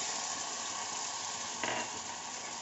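Lemon juice is poured into a hot mustard seed tempering for dhokla and sizzles and fries steadily. A brief louder burst of crackle comes partway through, and the sound stays close and continuous.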